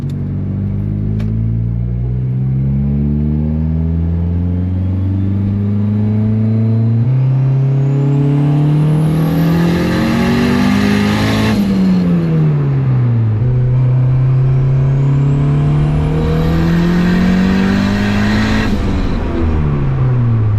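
A built single-cam turbocharged engine in a car pulls hard under boost, its engine note sweeping upward through two loud, close acceleration runs with a brief dip between gear changes, no talking.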